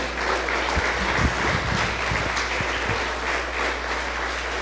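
A church congregation claps steadily and loudly at a worship service, a dense, even wash of applause that fills the whole moment without any talking.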